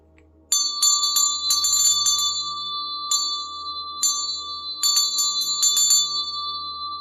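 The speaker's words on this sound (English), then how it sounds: "Clearing the energy with the gunta." A handheld ghanta ritual bell is rung repeatedly in a dharma ceremony to clear energy, sharp bright strikes in irregular clusters over a long sustained shimmering ring, close and loud with no talk.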